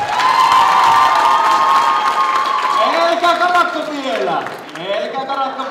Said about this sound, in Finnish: Isot aplodit pojille!